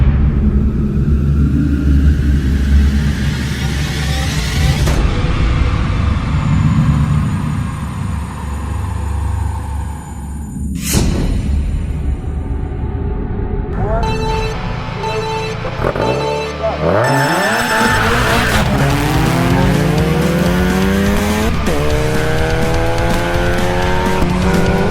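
An electric KTM dirt bike races an everyday family car. Loud tire squeals and rumbling come close by, then a rising high electric whine builds as they accelerate away.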